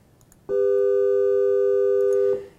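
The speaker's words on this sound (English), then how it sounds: "A perfect third that obeys a harmonic series sounds like this." Two pure harmonic-series tones sounding together as a just-intonation perfect third, a steady sustained interval that starts abruptly, holds for about two seconds alone, then fades.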